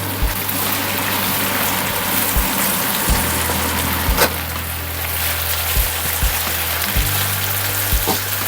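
Ketchup fries in a hot pan while making traditional goulash, a steady dense sizzle throughout with a low hum underneath and occasional soft clicks, no voices.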